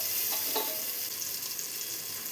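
Green chillies and other curry ingredients sautéing in a pan for a green gram curry, a steady soft sizzle throughout with faint stirring scrapes.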